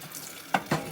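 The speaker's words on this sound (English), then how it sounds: "there's water coming through. So we're going to open it up and we're going to fill that tank with water" Water runs into a hot water heater tank being refilled after replacement, with two short splashing gurgles over a steady low rush of flow.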